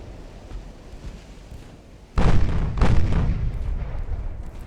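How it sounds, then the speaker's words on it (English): Naval 3-inch guns fire in the warship game Ultimate Admiral: Dreadnoughts as a commerce raider attacks transports. Two heavy booms, the first sudden and the second close behind it, rise out of a low battle rumble that lingers afterward. "The 3-inch guns have joined the fight."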